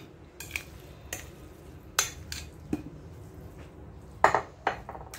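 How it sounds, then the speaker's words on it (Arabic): Rice is added to a bowl, heard as a few sharp spoon-on-bowl clinks and taps spaced irregularly over soft rustling, close and fairly quiet. "ودابا غادي نزيد الباقي ديال الروز"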